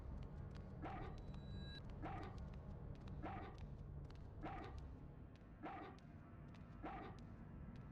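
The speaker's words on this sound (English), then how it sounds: "Huey's barking." A dog barks in the survival horror video game Haunting Ground, six short sharp barks at a steady pace of roughly one per second over a constant low hum.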